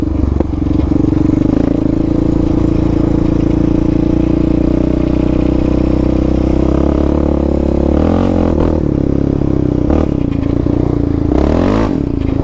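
Yamaha Raptor 700 ATV with a Dasa pipe and EHS tune being ridden, its engine droning loud and close throughout, with a few rises and dips in revs toward the end.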